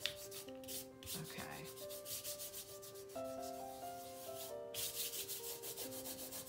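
Dried masking fluid being rubbed off watercolor paper with a finger, a soft steady scuffing friction in repeated strokes, close and quiet, with a faint brief spoken word and tonal background hum.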